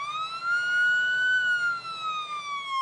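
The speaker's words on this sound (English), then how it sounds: "An ambulance!" An ambulance siren wails on a road during a driving-test stunt, its rising and falling tone steady and loud across the whole moment with no talk over it.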